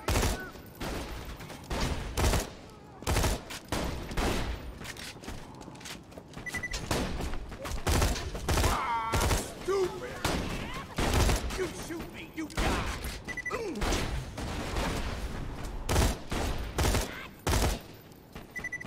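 Gunfire in the video game Borderlands 2 comes in loud, dense bursts of rapid shots and heavy impacts, with short gaps between volleys. The shooting runs through the whole stretch, and faint game sounds mix in between the volleys.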